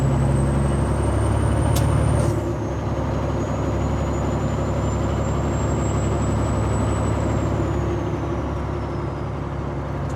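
Car cruising on a Vermont highway, a steady loud road and engine drone with tire roar holding evenly throughout, no voices over it.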